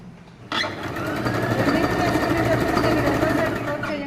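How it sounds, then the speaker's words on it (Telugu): A sewing machine runs steadily, stitching piping along a fabric edge to close the side, a continuous motor whir starting abruptly and holding close and loud for several seconds, with talk over it. "జస్ట్ మిషన్తోనే స్టిచ్ చేద్దాం"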